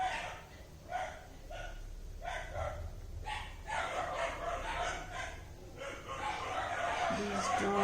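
Several dogs bark in short bursts somewhere off at a distance, with crowing and clucking fowl mixed in among them, all fairly faint over a low background hum.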